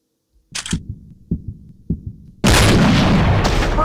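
Sniper rifle shots with angel rounds in the Hunting Sniper video game: a few muffled, thudding reports spaced about half a second apart, then a sudden loud, sustained burst of dense noise.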